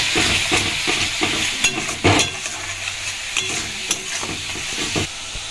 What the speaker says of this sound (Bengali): লবণটা দিয়ে ভালোভাবে কষিয়ে নিতে হবে